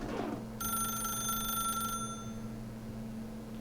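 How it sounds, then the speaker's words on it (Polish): A telephone in the video game The Stanley Parable rings once, a bright electronic bell tone lasting over a second, heard alone over a low background hum. "No przestań dzwonić."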